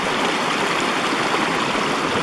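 Reedy Creek water flows steadily over rocks in a continuous, loud, close rushing wash with light gurgling and no voices.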